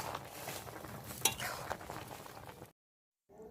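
Spoon stirring and mixing dudh shukto, a milky Bengali vegetable curry, in a pan, with soft scraping and a low simmering hiss, one brighter clink midway, then a sudden stop into silence before faint sound resumes.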